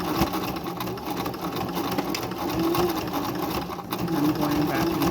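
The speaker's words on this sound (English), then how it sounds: "so I'm doing a zigzag stitch on the tie." A sewing machine runs steadily, stitching a zigzag along the tie of a homemade fabric mask. The whirring hum is close and continuous, with no talk over it.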